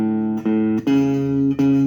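An electric guitar plays the first bar of a boogie riff on the fifth and fourth strings: four sustained low notes in an uneven, swung rhythm, clear and close, with no talking.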